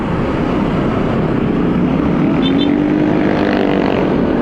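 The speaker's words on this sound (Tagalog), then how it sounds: "Maraming motor. Iba't ibang klaseng motor." Dense Metro Manila traffic full of motorcycles, including Honda scooters, rumbling past in a loud, steady wash of engine noise with a faint rising whine from one machine.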